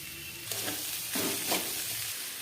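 Chopped ginger, green chilli, garlic, tomato and onion sizzle steadily in hot oil in a pan for pasta, with a few louder bursts as a spatula stirs them through; no talking.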